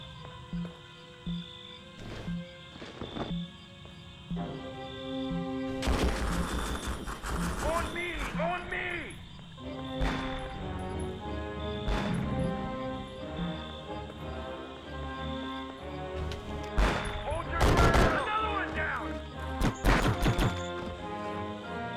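Gunfire in the Conflict Vietnam video game comes as sharp, loud bursts in two clusters over game music and sound effects, with people talking through much of it.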